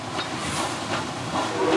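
A steam train at a theme park resort hisses and rumbles nearby, a steady broad wash of steam noise that swells slightly toward the end.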